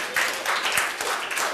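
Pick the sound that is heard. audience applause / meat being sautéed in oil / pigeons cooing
audience applause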